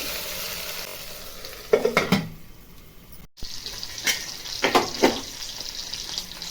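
Tomato khichdi stirred with a spoon in a frying pot, scraping and clattering in two short bursts over a low steady sizzle, close by, with no talk.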